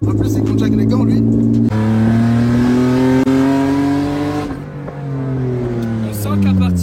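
BMW Z3 2.8i with a cut exhaust line, the engine revving loudly with rising and falling tones, a brief lift midway, then climbing again, close by with a raspy, aggressive exhaust note.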